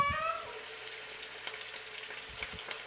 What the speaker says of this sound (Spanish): Vamos a sellar nuestro pollo.